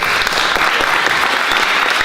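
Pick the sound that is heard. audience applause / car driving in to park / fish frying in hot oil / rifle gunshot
audience applause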